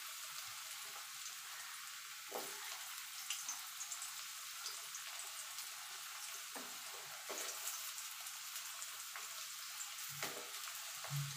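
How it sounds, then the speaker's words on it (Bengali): Potato pieces fry in hot oil in a home kitchen, giving a steady, close sizzle with occasional soft stirring knocks and no talk. "এবার আলুগুলোকেও আমি লাল লাল করে ভেজে"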